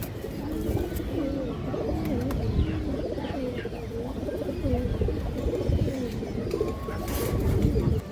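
A Giribaz female pigeon coos repeatedly at close range, soft throaty rolling calls overlapping with other pigeons and steady background chatter throughout.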